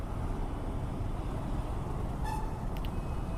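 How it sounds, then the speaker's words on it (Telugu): A motorcycle horn sounds briefly twice near the end, short tonal toots over steady road and engine noise while riding. "I will sound horn."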